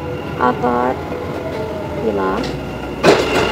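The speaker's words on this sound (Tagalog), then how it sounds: "Ayan po ang tren" A Dubai Metro train pulls into a station with a low, steady rumble and a faint hiss of doors, while a person talks nearby over the mechanical hum.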